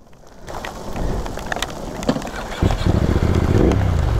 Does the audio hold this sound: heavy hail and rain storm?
yes